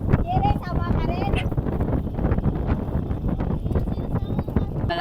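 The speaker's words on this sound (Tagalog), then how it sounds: "Hangin to." Wind blows across open water near a mussel and oyster farming area on the Cavite boundary, a steady loud rushing with buffeting on the microphone throughout, while people talk over it.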